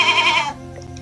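Goats in the Roblox game Dig give a single short, nasal bleat up close, fading quickly into quiet.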